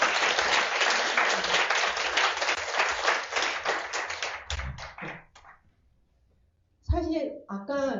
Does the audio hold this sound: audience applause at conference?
yes